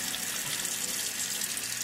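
Tap water pours steadily into a sink as eyes are rinsed, a close, even rush with no talking.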